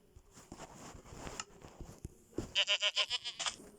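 A Minecraft goat bleats once in a loud, quavering, pulsing cry near the end, preceded by soft shuffling and clicks.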